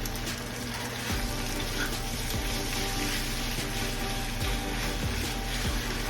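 Saltfish sizzles in a pan with dumplings, a steady, even hiss of frying that continues without letup at moderate loudness.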